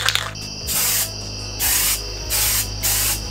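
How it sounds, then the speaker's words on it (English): Spray paint can hissing onto Nintendo Switch parts in four sharp bursts of about half a second each, loud and close, separated by brief quiet gaps. "You can flip it upside down like that and spray."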